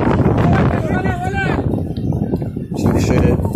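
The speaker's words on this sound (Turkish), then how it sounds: "Çok şiddetli, 70 km yakın" Strong gusting wind near 70 km/h roars into the microphone during a large forest fire, a loud buffeting rumble that persists under a man's excited speech throughout.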